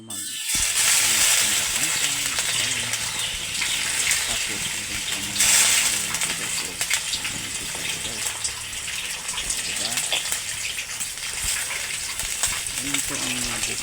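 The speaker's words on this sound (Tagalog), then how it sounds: "Lagyan ng tubig na marami para maganda guys" Water pours steadily into a cooking pot for chicken, a continuous broadband rush with a brief louder surge midway, while someone talks over it in the background.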